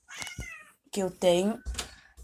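A cat meows a few times, wanting to be let out, with someone speaking in between in a quiet indoor room.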